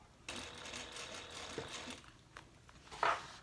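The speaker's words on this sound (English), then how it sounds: "We're going to be stitching on the main panel using the seam as our guide." Sewing machine stitching along the seam of a handbag's main panel at a 4.5 stitch length, a quiet, fast mechanical whir in short bursts close by.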